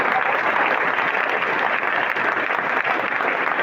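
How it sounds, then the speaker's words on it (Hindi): A meeting crowd applauds loudly for the appliances team, with continuous, dense clapping that stays strong and even throughout, filling the room. "मैं चाहूंगा उन सारे अप्लायंस के लिए एक बार जोरदार तालियां होनी चाहिए"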